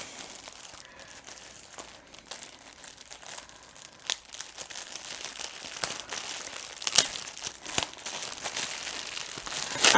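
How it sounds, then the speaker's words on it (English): Handbag being unwrapped from bubble wrap and plastic packaging, a steady run of close crinkling, crumpling and tearing with sharp crackles, no talking. "It's got bubble wrap around it and plastic."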